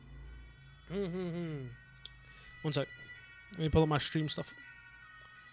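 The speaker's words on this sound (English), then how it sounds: "the sirens are going on in the background" Emergency vehicle sirens wail faintly in the background outside, rising and falling in short bursts while someone talks over them close to the microphone.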